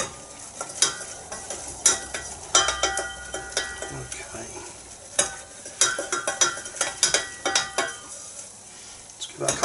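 Flour stirred and cooking in a pan as the roux base for a fish pie sauce, with steady scraping and stirring strokes over a soft sizzle, close and moderately loud, with occasional utensil knocks against the pan.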